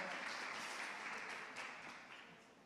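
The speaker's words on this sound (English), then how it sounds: "Big applause, the stage is yours" Applause from a conference audience at a summit stage welcoming a moderator, a faint, distant wash of clapping that slowly fades over a few seconds.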